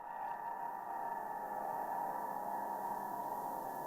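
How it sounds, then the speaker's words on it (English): Recorded screams left to reverberate in piano strings, heard as a faint, sustained, eerie ringing drone with steady tonal bands and slight distortion, alone with no voices. "Not recording their own screams, but they would stop and record the reverberation in the strings."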